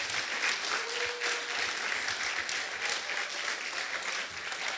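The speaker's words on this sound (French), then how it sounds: "Donc je vous demanderai de les applaudir chaleureusement." Sustained, steady applause from a theatre audience clapping for the actors after a church show, dense and even throughout without voices.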